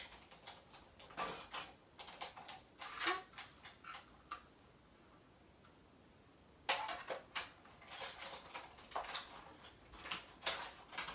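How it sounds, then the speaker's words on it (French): A desktop die-cutting machine cuts a paper label for a card, producing a run of close, quiet mechanical ticks and clicks in an irregular rhythm, with a brief pause midway before the clicking resumes. "J'arrive, je fais mon étiquette avec ma machine"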